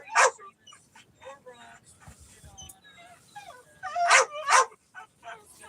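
A dog outside an RV whimpers and yips in short, high bursts, loudest near the start and twice more toward the end, with quieter whines in between and people talking nearby.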